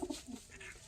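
A pigeon gives a short, soft coo of a couple of low notes, faint and close, with no talk over it.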